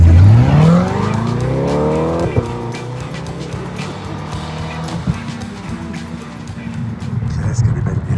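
Chevrolet Corvette C8 Stingray engine revving hard, pitch sweeping sharply upward in a loud howl before settling into a steady roaring drone with crackles, heard up close while people talk excitedly over it.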